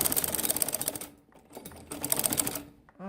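A sewing machine runs a double seam along a salwar waistband in two quick rattling bursts separated by a short pause, close and fairly loud.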